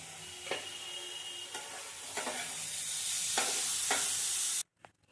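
Carrot halwa with cashews fries and sizzles in ghee, a steady close hiss broken by several scraping stirs of a spoon, then cut off abruptly.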